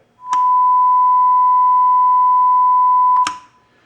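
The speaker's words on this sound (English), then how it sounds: "I have a 1 kilohertz tone at 5 millivolts fed into this unit here" A steady pure 1 kHz test tone plays through a Claricon stereo receiver at full volume, holding at one pitch for about three seconds, loud and unwavering, with a click at its start and end.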